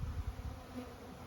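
A honeybee swarm buzzes at a hive box in cold weather, a steady low droning hum from many bees, close and even, with no voices.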